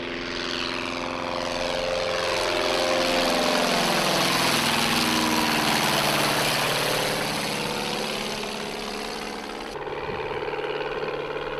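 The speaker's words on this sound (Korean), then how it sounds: "이제는 어디에서도 찾아보기 힘들어진 구식 비행기" An old-fashioned propeller airplane on Kodiak Island, Alaska, has its engine running up: a loud, steady, droning roar that swells, with a shift in tone near the end.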